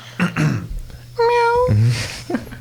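A man imitates a cat's meow with his voice, giving a drawn-out tonal call that slides from high to low, with a short cough-like burst before it and laughing talk around it.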